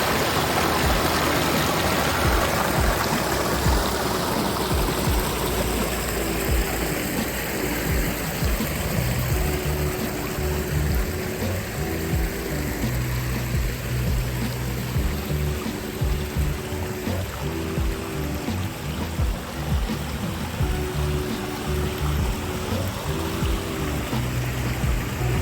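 The waterfall of a backyard koi pond pours continuously, a steady, full rush of splashing water close by that stays unbroken, with a faint low hum underneath.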